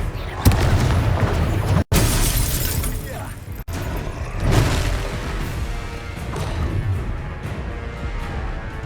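Sharp explosive blasts and shattering crashes from the Confringo spell in the Hogwarts Legacy video game, several impacts spread across the clip amid combat noise, with voices calling out over them.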